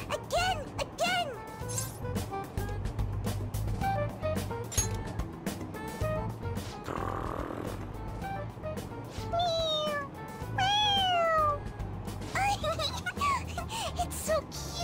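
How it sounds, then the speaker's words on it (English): A toy cat in the Persona 5 Royal game meows repeatedly when its head is pressed, with several rising and falling mews over game music and background voices. "It meows when you press on its head."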